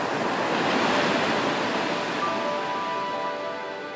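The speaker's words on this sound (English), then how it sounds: "Waves are just energy." Ocean surf rolls steadily in Hawaii, a loud, continuous broadband wash of breaking waves with wind across the microphone, no distinct individual crashes, and no voices.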